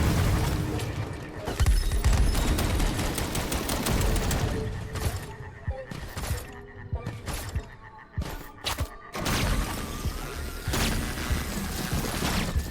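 Gunfire from enemy spawners in the Western shooter game Far Far West, heard as loud rapid bursts and repeated shots with booming impacts, clustered and then broken by short gaps.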